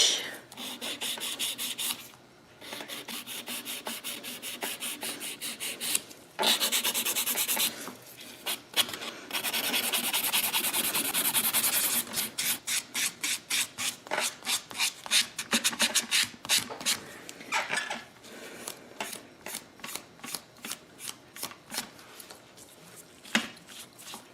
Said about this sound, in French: Bien sûr, je m'en viens limer.